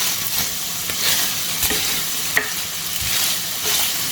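Mutton frying on a tawa while being stirred with crushed red chilli and fine black pepper: a loud, dense sizzle with repeated scraping strokes of a spatula, close up.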